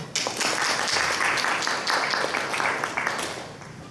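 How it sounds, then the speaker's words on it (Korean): A medical symposium audience claps to welcome a lecturer to the podium, with a brisk burst of crowd applause in a hall, steady and fairly close before tapering off near the end. "우리 이민영 원장님의 강의를 박수로 청하겠습니다"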